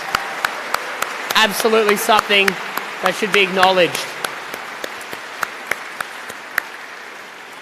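Scattered claps from the crowd at an opening ceremony for an inclusive sports games. A few isolated claps ring out while someone speaks over an amplified system, then sparse single claps continue after he stops.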